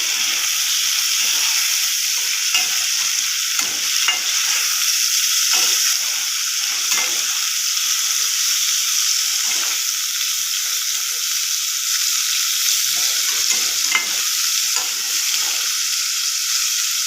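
Pumpkin leaves, tomato and salt sizzle loudly in a pan while a utensil stirs and scrapes through them in irregular strokes; the frying hiss runs unbroken underneath and nobody speaks.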